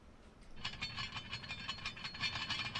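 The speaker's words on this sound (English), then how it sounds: "Is that just the engines windmilling?" Windmilling engines on a Delta Airbus A350 give off a steady rhythmic clatter of whooshing, ratchet-like pulses that repeat without a break, fairly close and with no voices over them.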